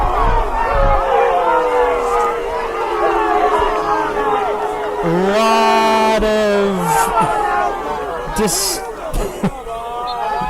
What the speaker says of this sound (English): crowd not loving it